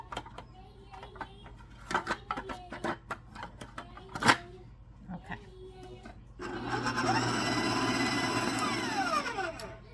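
An electric mixer whirs steadily through pizzelle cookie batter, starting partway in and running loud and continuous to the end, after a stretch of clicks, knocks and handling sounds.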